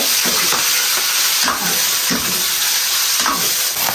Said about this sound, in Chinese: 锅中加油，葱姜蒜爆香。 下入五花肉，给它淋入料酒